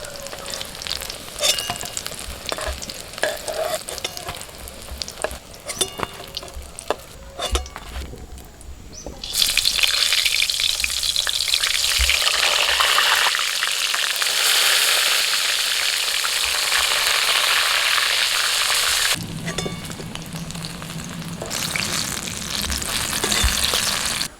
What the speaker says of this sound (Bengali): বেগুনটা আমি এপিট ওপিট ভেজে তুলে নিচ্ছি